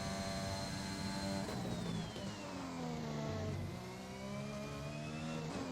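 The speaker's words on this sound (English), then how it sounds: "Every time when the engine sounds a bit weird." An F1 car engine in the F1 2021 racing game revs steadily, its pitch sliding down and back up through gear and throttle changes; it is loud and continuous with no talking.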